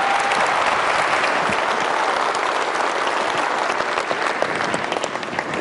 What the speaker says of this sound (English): Round of applause for Rick.